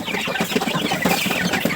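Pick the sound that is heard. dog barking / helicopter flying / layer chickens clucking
layer chickens clucking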